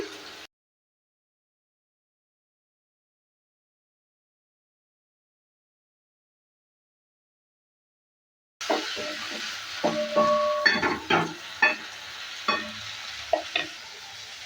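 Spice paste stirred and frying in a pan for an aloo potol charchari, breaking in after a long silence with a steady close sizzle and repeated sharp scraping strokes.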